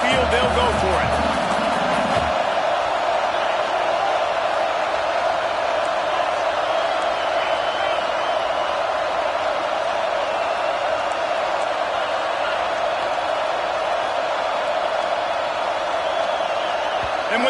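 Dense stadium crowd roar at an American football game on a fourth-down play, a loud sustained wall of noise that never lets up, with a brief thumping burst at the start.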